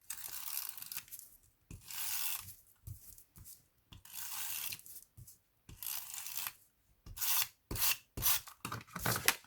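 A paper piece is pressed and rubbed onto a wooden backing during a scrapbooking craft, with soft intermittent rubbing and crinkling strokes in short bursts separated by pauses, close and quiet.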